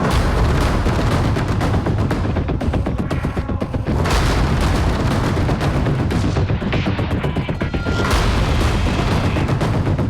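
Dense, loud bursts of gunfire and booming blasts fill the whole stretch during violent unrest amid stone-throwing in Sambhal, with a chaotic, continuous roar and no clear speech.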